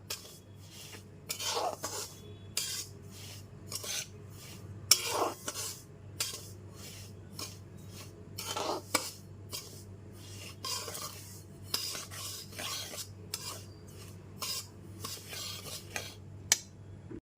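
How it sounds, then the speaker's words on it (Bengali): A spoon scrapes and clinks against a pan as semolina is stirred continuously over low heat for halwa, a quiet, irregular series of rubbing and tapping strokes close by. "গ্যাসে ফ্লেমটা লোতে রেখে ক্রমাগত সুজিটা এরকম নেড়ে চার থেকে পাঁচ মিনিট ধরে হালকা করে ভেজে নেব"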